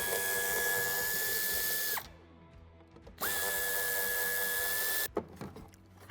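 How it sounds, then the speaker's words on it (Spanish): A power tool whirs steadily to back out two screws from a Renault Trafic fog light. There are two separate runs, each winding down, with a quiet pause between them and faint clicks afterward. "Quitaremos estos dos tornillos."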